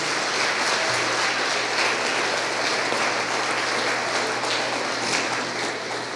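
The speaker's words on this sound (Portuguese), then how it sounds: "Vamos aplaudir ao Senhor" Sustained applause from a church congregation at a conference, praising the Lord; dense, steady clapping fills the space at even loudness throughout, with no voices rising above it.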